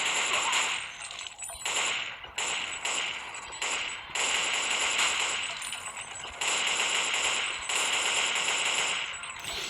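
Rapid bursts of gunfire at zombies in the Zombie Age 2 game, dense crackling shots in quick runs with brief gaps, loud and continuous, no talking.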